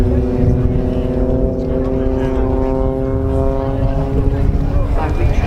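Extra aerobatic aircraft of the Blades display team climbing high at an air show, a steady loud propeller engine drone with a held harmonic tone throughout, mixed with crowd murmur and commentary voices.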